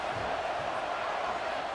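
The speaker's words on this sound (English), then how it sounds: "how nice is it to have the home crowd going absolutely bananas?" Home crowd roaring in a football video game: a loud, continuous wall of cheering voices that holds steady for the whole short stretch, with no distinct calls standing out.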